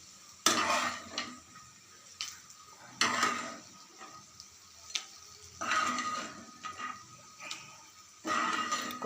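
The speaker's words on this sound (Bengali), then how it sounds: "এবার এটার মধ্যে ট্রান্সফার করতে হবে এসব বড়ি মটরশুঁটি।" A spoon scrapes and clatters against a metal pan while fried bori (lentil dumplings) and peas are moved into a dish; four or five short, close bursts of scraping and knocking separated by quiet gaps.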